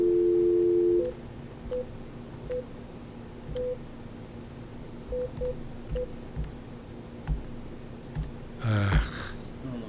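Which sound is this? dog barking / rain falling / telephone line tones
telephone line tones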